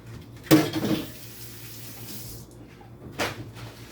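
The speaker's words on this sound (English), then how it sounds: "I'm going to take 3 eggs and dump them in this here pan." Three eggs are dumped into a metal 13 by 9 baking pan for a chocolate cherry cake. There is a sharp clatter and splash up close, then a quieter second knock a few seconds later.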